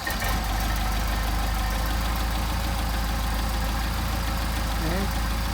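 A warmed-up Mercedes 190SL engine with Solex carburetors idling steadily, a loud, even low rumble close by with faint knocking and a brief voice near the end.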